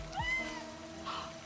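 A short, clear cat meow rises and falls within the horror interactive novel Livber: Smoke and Mirrors, followed by a second softer mew, set against a steady low hum and faint ambience.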